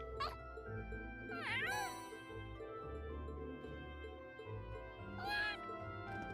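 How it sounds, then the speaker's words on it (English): Cat in the video game Trails of Cold Steel, a few rising meows at intervals over soft background game music and a low hum, quiet and without talk. "What the hell is this cat?"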